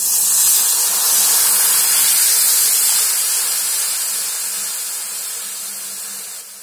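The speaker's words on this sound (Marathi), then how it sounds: "त्याच्यामध्ये पहिलं पाणी ओतते" Water poured into a hot kadhai over a low gas flame, a loud broad sizzling hiss that starts strong and slowly fades over several seconds, heard alone.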